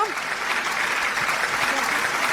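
An audience at a music show applauds a performer being introduced, with a steady dense wash of clapping throughout and a voice speaking faintly underneath.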